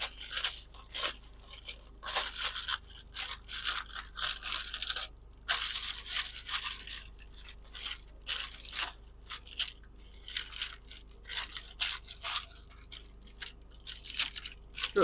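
Scissors cutting parchment paper for cooking frozen chicken: close, crisp snips and crinkly rustles in uneven bursts with short pauses between, and no talking.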